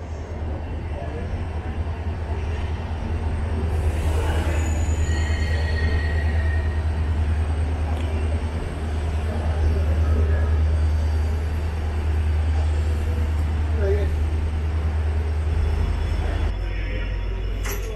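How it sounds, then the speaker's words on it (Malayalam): Train pulling out of Palakkad station in Kerala, heard from on board as a steady low rumble of wheels on rail, with faint intermittent high squeals and muffled voices in the carriage throughout. "അപ്പം അങ്ങനെ പാലക്കാട് സ്റ്റേഷൻ നമ്മൾ പുറപ്പെട്ടു."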